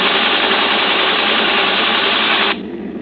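Aircraft engines roar in a vintage aviation radio drama, a dense, loud, steady hiss-like drone that holds evenly and then drops sharply to a quieter rumble near the end.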